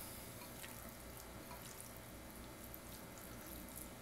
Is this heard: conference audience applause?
no